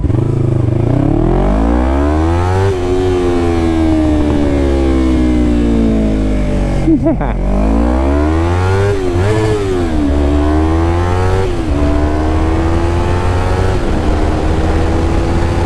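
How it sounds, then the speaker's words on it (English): A small 300cc motorcycle engine idles and revs up and down, with a few sharp backfire pops and crackles breaking through the loud, steady drone. "Little baby backfires from a baby 300."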